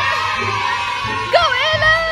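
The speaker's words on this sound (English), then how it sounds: "Mag-cheer natin sa Ella." A small crowd of people, children among them, whoops and shouts in encouragement for a girl named Ella during a dice challenge game, with raised voices rising over background chatter.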